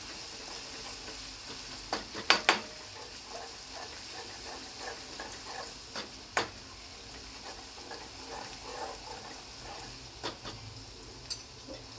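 Garlic sautéing slowly in oil over low heat, giving a soft steady sizzle with occasional spoon taps and stirring clicks against the pan, close and quiet with no talking.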